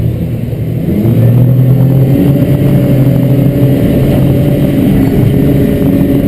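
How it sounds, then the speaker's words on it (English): A Stabicraft 2880 Pilothouse boat's engine rises from idle to a loud, sustained droning roar as it takes off from a jetty, holding a steady heavy tone with water and wind noise beneath. "notice this acceleration when I take off"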